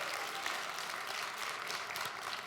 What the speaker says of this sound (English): I just want to say a big thank you and probably a big round of applause to Melissa Barker and Jenny Brooks